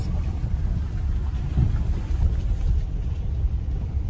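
A Mahindra XUV700 ploughs through an off-road water crossing on the mountain route from Sissu to Leh, giving a continuous heavy low rumble of engine and churning water, loud and close with no voices.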